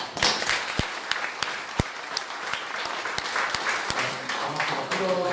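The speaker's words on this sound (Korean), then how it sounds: "저희들이 뜨거운 박수 올립니다." Warm audience applause at a political party leadership candidates' debate and Q&A, dense clapping with sharp individual claps standing out near the microphone, sustained and fairly loud throughout.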